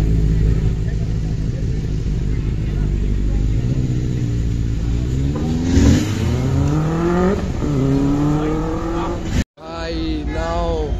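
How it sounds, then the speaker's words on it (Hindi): A Bentley revving at a street car gathering in Khan Market: a deep engine roar rising in pitch through repeated revs, loud and close, with traffic rumble and people talking around it. "ये बैनली इसकी आवाज़ थोड़ी सही लग"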